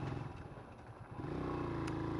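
A motorcycle ridden down a mountain road from Husn Habb in Yemen, its engine running steadily close by and rising in level partway through, with no voices.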